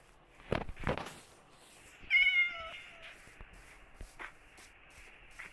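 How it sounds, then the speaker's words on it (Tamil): A cat in the Minecraft video game meows twice, close and clear, after a couple of soft thumping footstep sounds, with faint shuffling steps continuing afterward in an otherwise quiet scene. "கைஸ் பூனையை பிடிக்கலான்னு பார்த்தா பூனை ஓடி போயிடுது"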